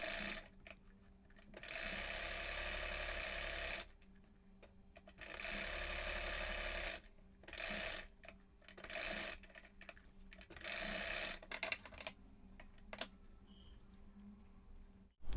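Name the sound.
sewing machine stitching a girl's top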